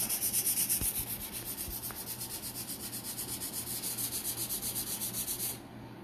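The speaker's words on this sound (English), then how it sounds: "I will take one of my Dixie Belle sanding pads, which are just these little 220 grit sanding pads here, and I can sand this out" A small 220 grit Dixie Belle sanding pad rubbed by hand across a surface in quick, regular back-and-forth strokes, close and fairly quiet, with the strokes stopping just before the end.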